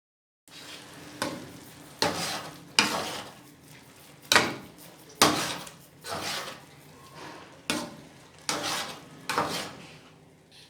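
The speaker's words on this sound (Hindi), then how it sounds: "अब मैं मीडियम फ्लेम पे इसको मुसलसल चम्मच चलाते हुए अच्छी तरीके से भूनूंगी" Carrot halwa with dried milk powder being roasted in a pan over a medium flame, a spoon stirring and scraping it continuously, with repeated loud close scrapes and knocks against the metal at an irregular rhythm.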